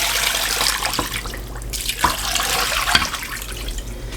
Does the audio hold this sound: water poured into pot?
yes